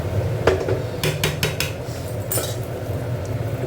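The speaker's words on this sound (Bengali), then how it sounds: "এবার কিমাটা এর মধ্যে ঢেলে দিচ্ছি" Minced meat going into a metal cooking pot for khichuri, a few sharp clanks and scrapes of utensils against the pan over a steady kitchen rumble, with no talking.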